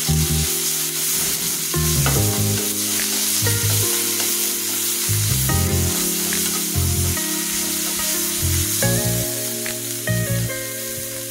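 Red amaranth greens are stirred in a hot pan, a steady sizzle running under repeated close scrapes and knocks of a spatula against the metal, rhythmic but uneven, with no voices.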